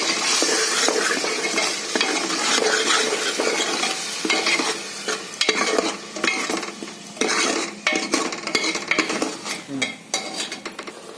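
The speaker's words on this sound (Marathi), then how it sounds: "तेल सोडवपर्यंत सुपेस्टपर्यंत असं हलवायला लागतो ना मसाला" Ground masala, with turmeric and asafoetida, frying in oil as it is stirred in a pan: loud continuous sizzling with dense, rapid scraping and clinking of the spoon against the pan throughout.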